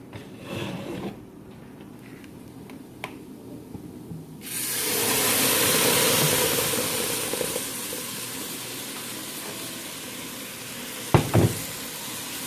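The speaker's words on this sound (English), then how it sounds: "this is when we would add the tomato sauce that we grinded in the blender. So we can go ahead and add that." Blended tomato sauce is poured into a pan of browned rice for Mexican rice, setting off a sudden loud sizzle that slowly softens into steady frying, with a clatter of utensils near the end.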